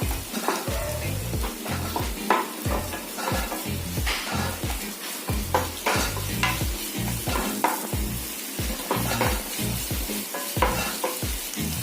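Egg shallow-frying in a pan for Burma-style egg bhejo street food, a loud crackling sizzle broken by rhythmic, repeated stirring and scraping strokes, close and steady throughout.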